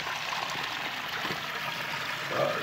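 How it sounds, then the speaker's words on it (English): Water flows steadily through a small creek bed in Oakland, Maine, a soft continuous trickling and babbling heard close up and fairly faint, with no voices. "I'm along this small creek bed"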